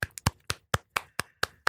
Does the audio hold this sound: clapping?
yes